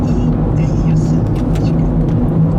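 Steady low engine rumble and road noise fill the cabin of a car driving through Haifa in the evening, constant and close, while a person talks throughout.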